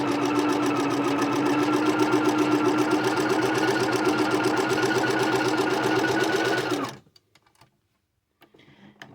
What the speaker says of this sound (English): Now I've got my sewing machine right now set on a stitch length of 1 on the machine.